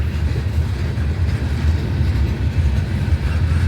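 A freight train passes through Abbeville, South Carolina, its low continuous rumble and rhythmic wheel clatter holding steady up close with no talking.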